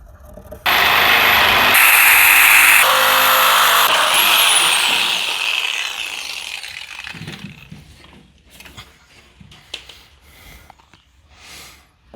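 A power tool cuts loudly into the steel body panel of a Porsche donor car, with a harsh whining grind starting abruptly and running several seconds before fading into scattered clanks and workshop handling noises.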